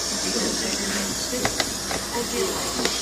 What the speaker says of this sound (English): it's not sealed, and it's venting steam